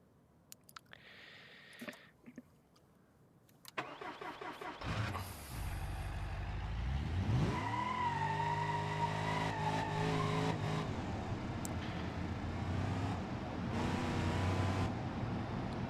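A 1,000 horsepower '68 Charger engine in the BeamNG.drive driving game starts with a few clunks, then settles into a steady, fairly subdued rumble that swells slightly and holds.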